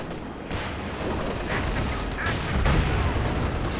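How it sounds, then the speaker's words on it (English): Battlefield combat in Company of Heroes 2 with a landmine detonation among steady gunfire and explosions, a dense continuous rumble of shots and blasts with a stronger burst late on, no voices. "Oh, there was a landmine detonation there."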